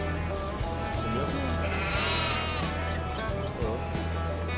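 Sheep bleat in Farming Simulator 22, a few wavering calls over a steady low farm drone and game ambience with continuous background noise.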